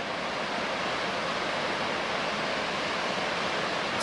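The Colorado River flows past Pipe Creek Beach deep in the Grand Canyon, a steady, broad rushing roar of moving water that stays even and continuous throughout, with no voices over it.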